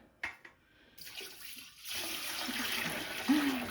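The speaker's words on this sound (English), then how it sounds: "this is how well it comes apart to dump the dirty water" Dirty water from a Shark Carpet Xpert carpet cleaner's tank is poured out after cleaning a heavily soiled mat, a steady close splashing pour that follows a few plastic clicks as the tank is taken apart.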